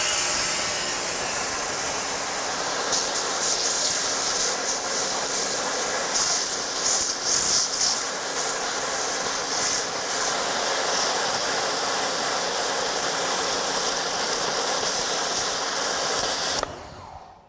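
Electric pressure washer firing through a 0 degree tip an inch from a sticker, a steady loud high hiss of spray running continuously with small surges, then cutting off abruptly near the end.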